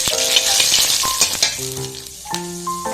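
Bay leaves, dried red chillies and nigella seeds tempering in hot mustard oil for a vegetarian spinach dish, giving a steady close sizzle with a few sharp pops and crackles throughout, no voices.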